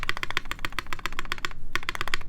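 Rapid keystrokes clatter on a custom mechanical keyboard built from a Primus kit, with the spacebar among the keys struck. The close, crisp clicks arrive in a steady rhythm, broken by one short pause.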